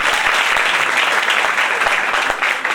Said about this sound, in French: Encore une fois, applaudissez cette équipe.